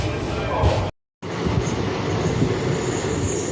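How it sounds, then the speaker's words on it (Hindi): A passenger train rolls into platform 3 at Kazipet junction, with a steady loud rumble of wheels and carriages, a brief dropout, then continued rolling noise and faint squeal. "शायद हम काजीपेट के प्लेटफॉर्म नंबर 3 पे ट्रेन लिया जा रहा है।"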